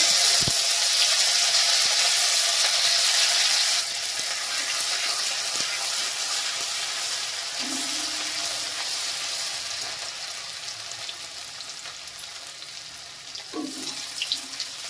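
Grated ginger fries in hot spiced oil, giving a steady, loud hiss that eases slightly after a few seconds and continues close up with faint clinks, and no talk.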